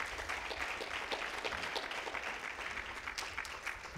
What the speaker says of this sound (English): please give a round of applause to those that are here supporting you that made it happen